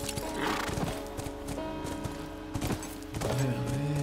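Horse hooves clip-clop steadily and a horse whinnies in The Last of Us Remastered, close and loud throughout, with a louder neigh near the end.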